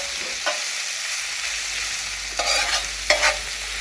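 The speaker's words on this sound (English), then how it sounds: "keep stirring this for a few minutes. Frying for about 3-4 minutes now." Lamb keema balti sizzles steadily in a pan outdoors while a utensil scrapes and stirs it in a few distinct strokes, close and moderately loud.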